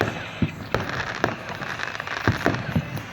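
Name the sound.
fireworks on bonfire night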